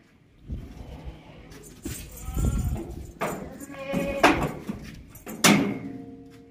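A two-tooth billy goat weighing about 51 kg bleats several times in short, loud calls amid farmyard noise and some nearby voices at a goat sale.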